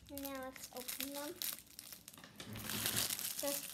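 Plastic packaging of Amazon fidget toys crinkles and crumples as it is opened by hand, loud crackling bursts close by, with a voice and brief tonal sounds over the handling noise.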